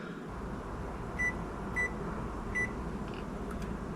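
A microwave oven in the video game Stories to Tell: Run Away hums steadily in the background, with a few faint electronic beeps ringing out at intervals.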